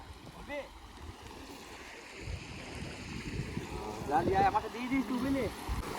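Water laps and sloshes around a small fishing boat, growing busier toward the end, with people talking quietly over it.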